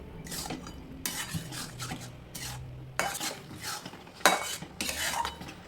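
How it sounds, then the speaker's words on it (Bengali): Boiled moong dal is stirred into pointed gourd (parwal) in a pan, producing repeated scraping strokes of a spoon against the metal pan, with soft wet sizzle between strokes and no voices. "দিয়ে দেওয়ার পর পটলের সাথে মুগ ডাল ভালো করে মিশিয়ে নিতে হবে"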